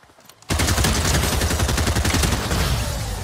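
Video game gunfire erupts abruptly after a near-silent half second, a loud, dense burst of rapid shots that continues without pause to the end.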